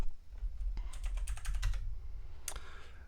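Keys tapped on a computer keyboard while entering a password at a sudo prompt during an Arch Linux install, a quick run of close, crisp clicks in the middle with one more tap near the end, no voices.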